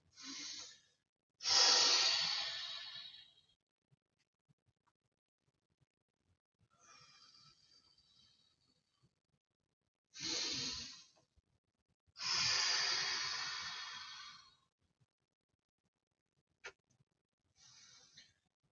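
Deep, slow breaths held through an arm stretch during a full-body workout: several long exhalations, close and fairly loud, separated by stretches of near silence, with a few short sniffs.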